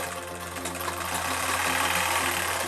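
A sewing machine stitches a fabric cover for a cupboard, giving a steady, loud motor hum with a fast rhythmic knocking throughout, heard close and uninterrupted by talk.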